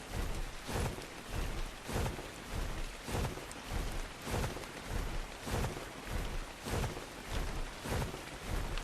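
Steady, dense rainfall pours in the Ark: Survival Evolved game world, with a rhythmic pulsing wash that keeps rising and falling and low rumbles underneath, loud and continuous with no talking.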